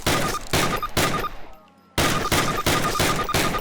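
Loud, rapid gunfire in Call of Duty comes in repeated bursts, with a short quiet gap in the middle before the shooting picks up again.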